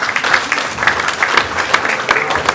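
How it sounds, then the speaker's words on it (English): An audience at a book launch for A Doctor for the People applauds the author, a loud, continuous burst of many hands clapping with crisp individual claps standing out close by. "A louder applause for the author"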